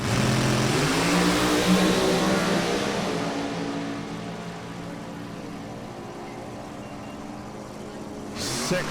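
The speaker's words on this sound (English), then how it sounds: "Oh, we got loud, scary cars coming up again." Loud NHRA drag racing cars roar past nearby, the rumbling growl peaking early and then fading into a steady distant drone.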